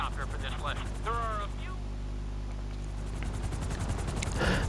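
Helicopter in the video game GTA V, a steady low rotor drone running throughout, loud and continuous, with someone talking over it early on.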